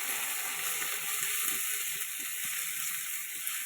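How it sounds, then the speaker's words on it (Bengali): Spice paste of ginger, garlic and green chilli frying in a pan for crab curry, a steady close sizzle and hiss running unbroken throughout, with faint stirring scrapes underneath. "কাঁচা লঙ্কা সব দিয়ে মশলাটা কষিয়ে নেব।"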